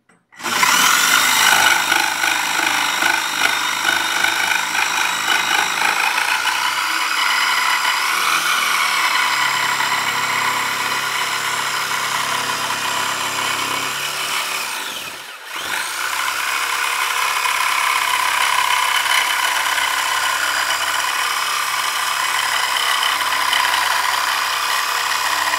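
Power saw cutting along a marked line in wood, a loud, sustained whine that runs steadily for the length of the cut, dips briefly partway through, then continues.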